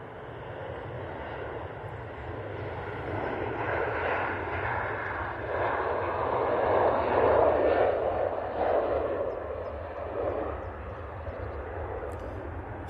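Boeing 737-800 airliner rolls past at an airport, a broad steady jet roar that swells toward the middle and eases off, with no voices over it.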